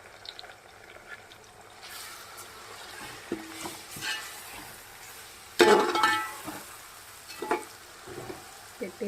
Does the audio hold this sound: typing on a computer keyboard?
no